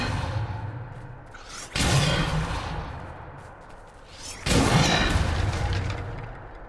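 Two forceful whooshing blasts from the Depulsor spell in Hogwarts Legacy, each a sudden loud burst that swells and trails off, spaced a few seconds apart with no talking over them.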